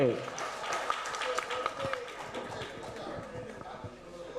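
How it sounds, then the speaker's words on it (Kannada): An audience at a guru-honouring stage programme claps in a dense, steady patter of many hands, moderately loud and sustained, with a voice speaking over the start. "ಚಪ್ಪಾಳೆ ಚಪ್ಪಾಳೆ."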